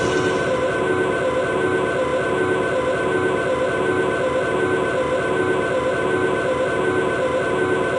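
A transit train in the game Half-Life: Blue Shift rolls along with a constant, loud metallic rumble and sustained ringing tones, unchanging throughout.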